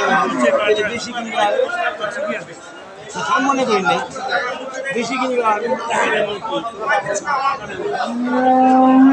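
Cattle at a traditional rural livestock market in Dinajpur, Bangladesh, with an occasional low moo rising from a dense crowd of traders haggling and chattering nearby.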